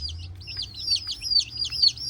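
Rapid high-pitched chirps from small chicks, repeating steadily over a low background hum.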